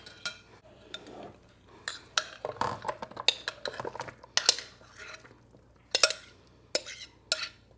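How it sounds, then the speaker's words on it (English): A spoon scrapes and clinks as Frito corn salad is transferred into a serving bowl. Irregular clattering knocks and scoops come close up, in uneven bursts with brief pauses and no talking. "I am going to transfer this into the bowl that I want to take with me and serve this in."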